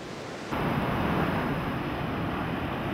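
Rushing water at Victoria Falls, a dense broad roar that cuts in abruptly after half a second and holds steady and loud to the end, with no talk.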